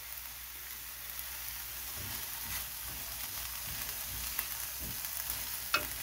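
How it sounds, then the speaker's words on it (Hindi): Onion, spring onion and garlic stir-fry in olive oil in a pan, giving a steady low sizzle broken by soft scraping stir strokes and occasional sharper clicks, nearby with no talking. "अब थोड़ा सा स्टर फ्राई किया है मैंने, अब मैं इसमें डाल रही हूँ। मैंने 3 गार्लिक चॉप किए थे"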